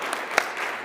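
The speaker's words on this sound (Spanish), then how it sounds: "¿Por qué no le damos un aplauso al Señor, verdad?" Brief, fairly faint applause from a church congregation during a Spanish-language service, with a couple of sharper claps standing out over a steady patter of hands, no voices.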